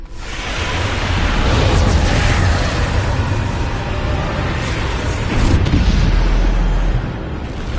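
Loud, heavy booming from Bombarda spell explosions in the Hogwarts Legacy video game, a dense continuous roar of low rumble and noisy blast debris lasting several seconds, with a second swell near the end before easing off.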